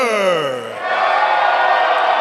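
A wrestling crowd at a live NWL Kansas City show roars and cheers in a dense, sustained wall of noise, with a rising bellowed yell at the start before the crowd swells to a steady roar.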